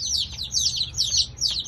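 Newly delivered baby chicks peep in a quick series of high, bright chirps, four or five bursts in a row, close and clear over a low background hum.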